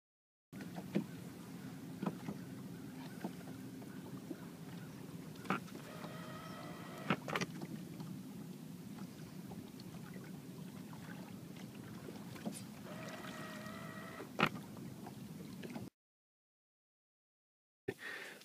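Minn Kota trolling motor running on a Cajun bass boat, a steady low electric hum on the water with occasional knocks and brief whirring bursts, near and continuous, then cutting out abruptly.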